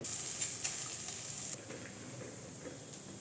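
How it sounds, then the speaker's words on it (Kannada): Ghee sizzling in a pan with badam and cashew obbattu flatbread, a close, steady hissing crackle that drops slightly in level partway through. "ನೋಡಿ ಇವಾಗ ತುಪ್ಪ ಹಾಕ್ತಾಯಿದ್ದೀನಿ"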